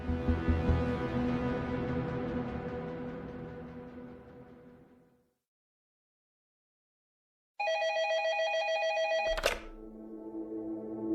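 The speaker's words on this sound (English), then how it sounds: "Short was sitting at his desk in his office when his phone rang" A desk telephone rings in an office late at night: one clear, fairly loud burst of ringing that comes in alone after music fades to silence, followed by a lower tone.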